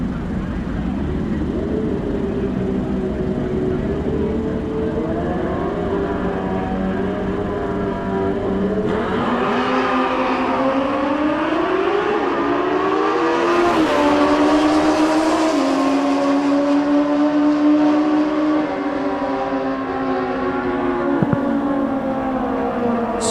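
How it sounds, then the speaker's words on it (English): Drag racing bikes at a Mancup World Finals event roar through long burnouts, a loud sustained engine wail that rises in pitch as revs climb, with an announcer talking over the din. "Strong burnouts with some of these bikes"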